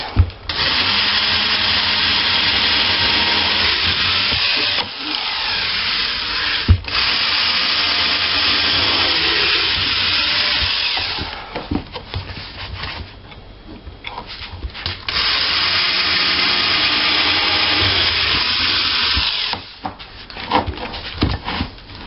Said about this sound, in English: So I'm going to drill my holes.